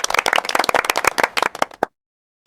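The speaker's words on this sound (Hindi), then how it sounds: "लोग खुश हो गए और सबने तालियां बजाएं।" A cartoon crowd claps in a rapid burst of many overlapping hand claps that thins out and stops abruptly, followed by silence and a brief final sound.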